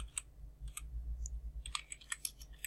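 Keys clicking on a computer keyboard as a search term is entered, quiet and close, in short irregular bursts with brief pauses and no talking.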